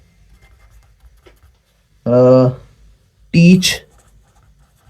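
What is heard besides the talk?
teacher writing an example sentence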